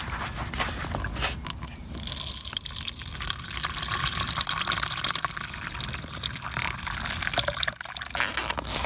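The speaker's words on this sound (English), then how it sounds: "Add your water." Water pours steadily into a cup of Alpine Start instant coffee during a trail day hike, a continuous close splashing fill lasting several seconds with no talking.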